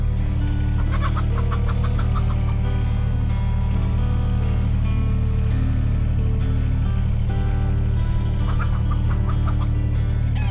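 Backyard chickens clucking while being moved into a new coop, scattered fowl calls repeating over a steady low rumble and dense background noise, no voices.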